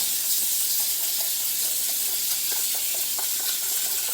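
Water runs steadily from a tap to rinse uncooked rice for a green pepper, rice and turkey casserole, a continuous close hiss with faint splashes and no talk.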